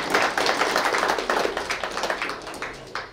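Wedding guests clap in rhythmic unison after a couple is declared married, a steady run of sharp, close claps that tapers slightly toward the end.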